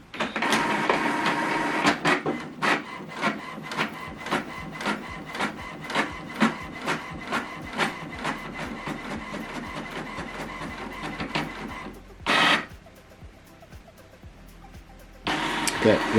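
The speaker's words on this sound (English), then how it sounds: "Now this document now is printing." An HP printer prints a two-sided document sent from an Android phone, with a steady run of rhythmic mechanical clacks and feed noise, a short loud burst near the end, then a pause before the machine resumes.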